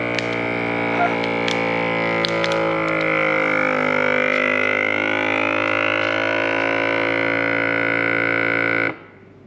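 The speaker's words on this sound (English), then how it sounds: "As you can hear, it's sucking all the air out." A KickAss 12V/240V vacuum food sealer pulls air from a bag, a loud steady motor drone with a whining tone that rises and shifts before cutting off abruptly near the end.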